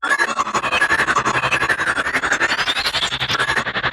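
Looped glyph ambiance sound-design effect built from a glyph sparkle, for a cursed bladeshadow ability: a dense, continuous shimmering texture with rapid fluttering pulses, steady and loud throughout, no voices.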